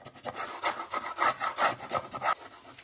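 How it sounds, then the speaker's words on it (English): A burnishing tool rubs a stencil down onto a craft surface in a quick series of short, scratchy back-and-forth strokes, close and fairly soft, with no voice. "We're just going to take our burnishing tool."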